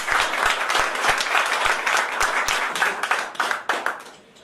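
Audience at a company presentation gives a round of hand clapping, a dense steady patter of many hands with a few sharper individual claps, tapering off near the end.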